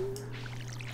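Crops being watered with a watering can in the farming video game Stardew Valley, heard as a brief, soft splash over a steady background tone.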